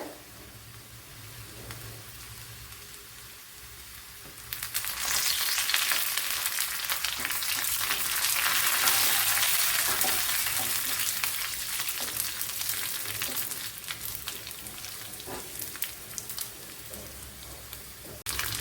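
Onions fry in a pan for an ash gourd curry. A quiet background hiss surges into a loud, close, crackling sizzle partway through and keeps hissing steadily after that.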